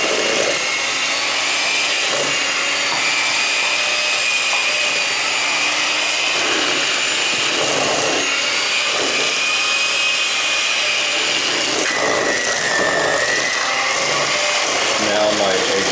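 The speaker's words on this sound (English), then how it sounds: "I'm going to cream the butter and add the sugar" Butter and sugar creamed for a pithivier with an electric mixer, a steady loud whirring drone running throughout, with faint voice underneath.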